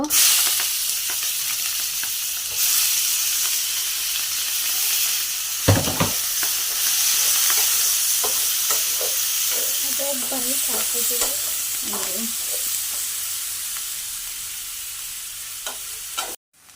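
Chopped onions fry in a pan with a steady, loud sizzle that carries on alone for over sixteen seconds, broken by the clatter of stirring and scraping in the middle stretch.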